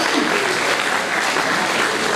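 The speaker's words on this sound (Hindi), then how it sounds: "तो माशाल्लाह जोरदार तालियां" Audience at a high school award function clapping loudly and continuously, a dense crowd of hands filling the room at close range with no pauses.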